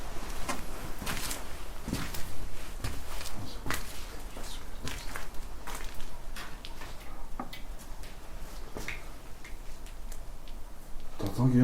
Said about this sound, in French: Je ne sais pas si vous entendez ces bruits de pas comme nous, on l'entend sur place